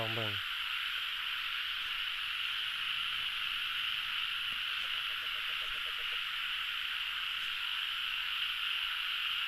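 Frogs croaking after the season's first rain at night, a chorus of short calls over a steady hiss of insects and rain noise, with faint rhythmic croaks scattered through and no clear speech.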